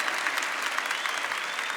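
Church congregation applauding a brother chosen as a prophet, steady dense clapping from many hands filling the room, continuous and even without pauses.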